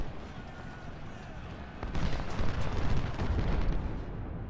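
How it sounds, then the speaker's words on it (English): Artillery fire from a fortress in Ultimate General: Civil War, distant low booms and rumbling under a faint speaking voice, then a sharp crack at about two seconds followed by louder, denser rolling blasts that taper off. "Oh, there are artillery inside the fortress."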